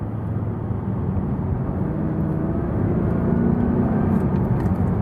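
A Jaguar XKR X150 cruises along, its engine a steady low rumble and whir heard from inside the car, constant and moderately loud with no speech.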